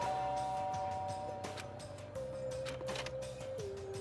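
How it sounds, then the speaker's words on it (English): Electronic doorbell chime from the video game Danganronpa Trigger Happy Havoc, a clean sustained tone that steps down in pitch over soft background music. "There's a doorbell next to the door."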